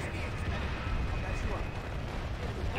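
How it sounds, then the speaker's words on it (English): Repeated explosions and artillery-like blasts fill a Planetside 2 battle, a dense continuous rumble of booms with gunfire mixed in. "So many explosions."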